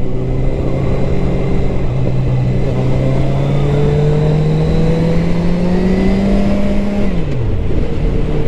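A car accelerates hard through a track lap, its close engine note climbing steadily in pitch as it revs higher, then dropping sharply on a gear change or lift near the end.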